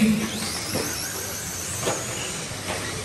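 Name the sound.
vintage Tamiya radio-controlled cars racing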